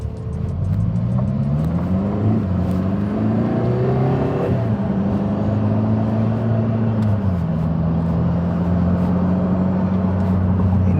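A Lotus Emira sports car accelerates hard, its engine note climbing through several rising pitch sweeps with gear changes, loud and close throughout, heard from inside the cabin.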